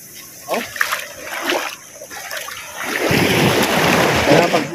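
Sea water splashing as someone bathes at the shore, intermittent splashes first, then a louder continuous wash of churning water, with voices talking nearby.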